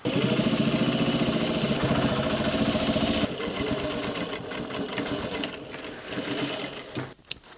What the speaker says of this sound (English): We're going to run a 1/4 stitch all the way down this